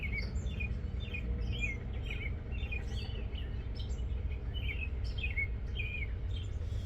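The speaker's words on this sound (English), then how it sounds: "My bird friends are here" Birds chirp and sing outdoors in quick repeated bursts of short, high tweets, moderately close, over a steady low background rumble.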